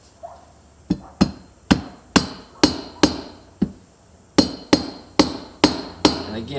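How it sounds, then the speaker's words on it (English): About a dozen sharp metallic taps of a hammer driving a small socket onto a part's outer edge during an I6 engine CDI trigger assembly, close and crisp, in two uneven bursts with brief pauses. "I prefer to drive it down with a small socket."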